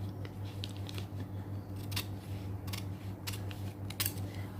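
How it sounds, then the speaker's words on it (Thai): Scissors cut through a paper pattern for curving a fabric edge, a handful of quiet separate snips spaced about half a second to a second apart over a low steady hum, with no talking. "ตัดกระดาษออก"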